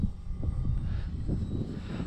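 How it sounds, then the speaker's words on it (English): An E-flite Valiant RC model airplane hums past with a steady, low engine drone, its loudness gently pulsing as it flies near. "Let me fly the plane right at me here."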